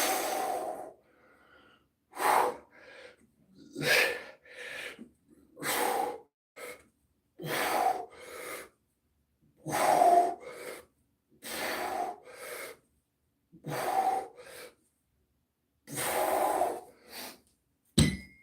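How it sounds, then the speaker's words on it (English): Heavy, forceful breathing during a shoulder and traps workout at the gym: about a dozen loud gasping breaths and exhales in an uneven rhythm, separated by short silences. "I know my breathing can be fairly intimidating"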